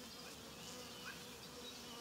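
A swarm of honeybees clings to a surface outdoors, some performing waggle dances, with a steady, dense buzzing of many wings throughout, close and continuous with no talking.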